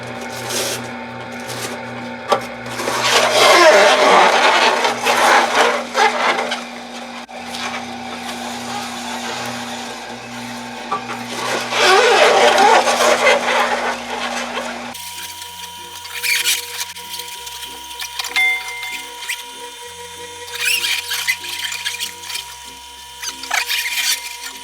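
A masticating juicer grinds and squeezes kale leaves, giving a loud, uneven rubbing and squealing crunch that surges in bursts, with a steady motor hum underneath and no talking.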